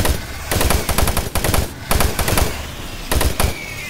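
Assault rifle fire in Doom 3, loud close bursts of rapid automatic shots with short pauses between volleys, about four bursts in quick succession.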